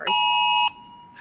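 An electronic alarm goes off with a single loud, piercing steady beep lasting about half a second, then cuts off to a quiet hum.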